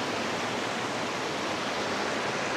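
A clean, shallow river running among large boulders near Looc, Nasugbu, Batangas makes a steady, dense rush of flowing water that fills the whole moment at an even level, with no voices.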